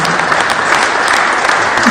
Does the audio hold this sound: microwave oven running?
no